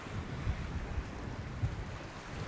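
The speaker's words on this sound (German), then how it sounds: "Sehr angenehm mit der leichten Brise hier." A light sea breeze blows across a beach at Playa Blanca on Lanzarote, a soft, low wind rush with faint surf and gentle buffeting bumps against the microphone, no voices.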